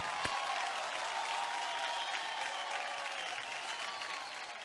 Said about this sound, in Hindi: शाहिद के लिए एक बार जोरदार तालियां हो जाए